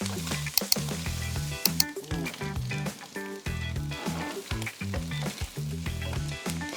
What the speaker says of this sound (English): Now I'm putting the frozen beef inside the hot oil.